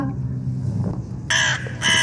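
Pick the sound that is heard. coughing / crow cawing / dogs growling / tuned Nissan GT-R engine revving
crow cawing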